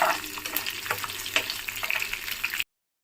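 Urad dal sizzles in hot oil in a pan with green and dried red chillies for coconut chutney, a close, crackling fry with scattered pops and stirring scrapes that cuts to silence at the end.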